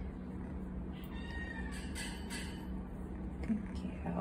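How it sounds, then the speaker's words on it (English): A cat gives a soft, bubbly, rumbling purr, faint and close, as a gentle voice murmurs now and then. "Having a little bubble purr."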